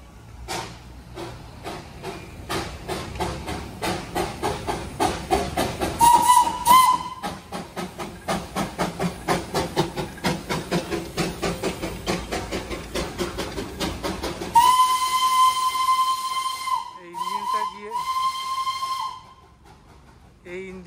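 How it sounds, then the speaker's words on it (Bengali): Darjeeling toy train steam engine sounding a loud, sustained whistle in two long blasts over a steady chuffing and hissing of steam, heard close up with a strong rhythmic beat running throughout. "স্টিম ইঞ্জিনের জয় ট্রেনটা আর ডিজেল ইঞ্জিনের জয় ট্রেনটা দুটোই একসাথে আছে।"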